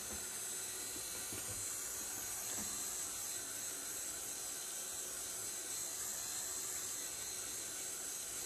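A homemade acrylic paint spray, made with Apple Barrel acrylic, is misted steadily onto card, a continuous airy hiss running the whole way through with no pauses and no talking.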